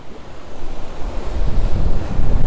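Sea waves washing onto a January beach near the central port in Sochi, a loud continuous surging roar that builds and swells, mixed with heavy wind buffeting the microphone.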